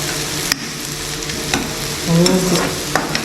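Small chopped vegetables for veg cutlets sauté in a pan with salt, sizzling steadily as a spatula scrapes and taps the pan several times, with one louder stirring scrape midway.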